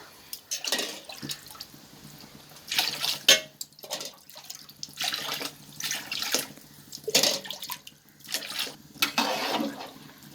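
Water is poured from glasses into a cooking pot for mutton biryani, about eleven glasses for eight of rice, arriving as several separate splashing pours with short pauses between them.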